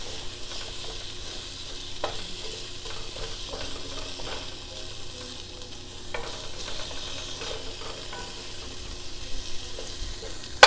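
Asparagus sautés in oil with magic spice in a skillet, giving a steady soft sizzle with occasional scraping stirs, close and continuous without talk.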